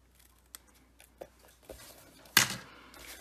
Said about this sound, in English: I'm just snipping straight across and then corner to center.